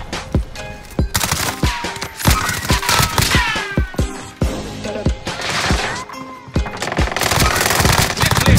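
Rapid bursts of automatic gunfire crackle through a military shooter video game firefight, with repeated sharp shots and volleys layered close and loud over continuous combat noise.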